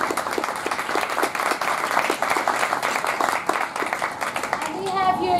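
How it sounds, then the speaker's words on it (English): Applause from an audience welcoming the national chairman of the Black Panthers, steady dense clapping for several seconds with some voices mixed in and a brief tonal sound near the end. "Give him a round of applause."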